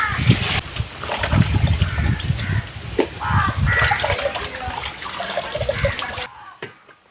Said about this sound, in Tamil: இது வந்து தண்ணி ஊற்றி சுத்தமாக கழுவிடுவோம்.